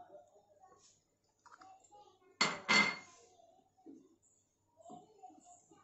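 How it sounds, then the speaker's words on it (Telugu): A spoon clatters against a pot while poha kheer with jaggery and cardamom is stirred, two quick loud knocks in the middle of an otherwise quiet stretch with faint background sounds. "ఇప్పుడు బాగా కలయబెట్టాలి, ఆ జాగరి అంతా అందులో బాగా మిక్స్ అవ్వాలి"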